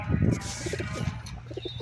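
Pigeon cooing nearby, soft low throaty coos repeating in a short rhythmic run over a light background hum.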